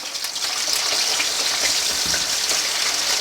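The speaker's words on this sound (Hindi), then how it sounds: "ये 2 कप के बराबर ऑयल है, इसे हमने गर्म कर लिया। अब हम इसमें अपना सारा चिकन डाल देंगे।" Chicken pieces frying in about two cups of hot oil in a karahi, a steady loud hiss and sizzle with scattered crackles and pops throughout.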